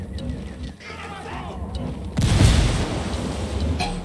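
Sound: frag grenade explosion in video game Ghost Recon Wildlands

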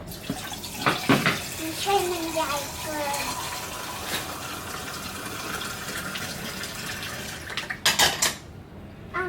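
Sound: washing mushrooms under running tap water

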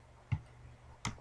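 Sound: typing on a computer keyboard

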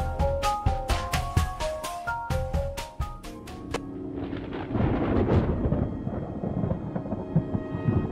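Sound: thunder in the video game Amnesia: Memories

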